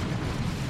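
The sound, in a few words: end of artillery creeping barrage explosions, Dawn of War 2 video game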